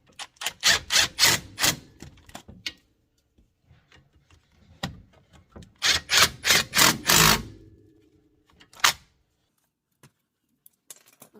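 An impact wrench with a 17 mm socket works on Honda brake caliper bracket bolts, up close: two rattling bursts of a couple of seconds each, separated by quieter fiddling, then one short final zap.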